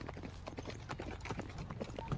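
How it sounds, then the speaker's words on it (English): Rapid clip-clopping hooves from several horses, steady and busy at moderate loudness, with a dense video game soundscape behind them. "horses are coming in"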